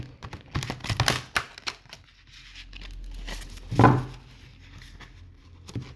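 A deck of tarot cards is shuffled by hand in short riffling, flicking bursts separated by pauses, with one louder slap near the end, close and without talk.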